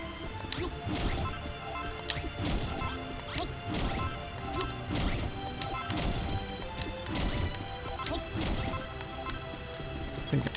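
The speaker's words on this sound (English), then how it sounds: "I've just managed to smash out a bit of ceiling after all." Roof blocks are smashed out one after another in the video game Dragon Quest Builders 2, with repeated sharp crunching impacts at a steady, fairly regular pace over a constant game background.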